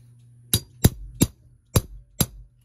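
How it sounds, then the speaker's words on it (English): Five crisp metallic hammer blows drive a clock bushing in against an anvil and stake, each strike close and ringing briefly, spaced about half a second apart. "Now I'm going to bring the anvil in. I'm going to bring the stake in."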